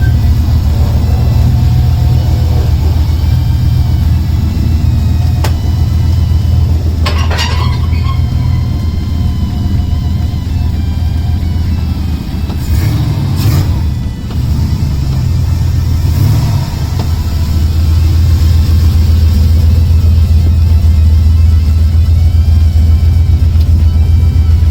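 An LS-swapped Dodge Dakota truck on a dragstrip quarter-mile run at night, its V8 engine roaring loud and close, revving and pulling hard through gear changes with a sustained heavy drone.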